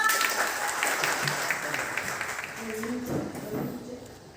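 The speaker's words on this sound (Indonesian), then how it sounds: "Sekali lagi tepuk tangannya Pak." Audience applause during a teachers' coaching session presentation starts loud and gradually thins out, and a voice speaks over the fading claps.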